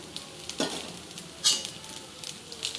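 Egg added to spiced fried rice in a hot pan, with soft sizzling, scraping stirs and occasional clinks of a utensil against the pan in short bursts.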